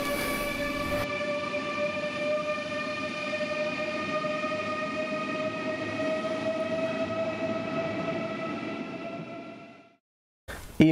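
An IC3 train at Frankfurt main station rolls past close by, its steady rumbling roar carrying a strong ringing whine for about ten seconds before it cuts off abruptly.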